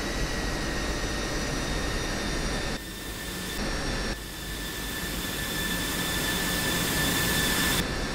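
A Pakistan Air Force F-16C Block 52 jet engine runs in the DCS World flight simulator game, a loud, steady roaring whine with a constant high tone that dips briefly twice before returning to full strength.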